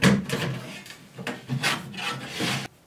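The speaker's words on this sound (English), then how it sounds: "most likely the cover is going to slide downwards" The plastic or metal cover of a network video recorder slides off its case in a few short scraping, rubbing strokes, close and fairly loud, ending abruptly, with no talking.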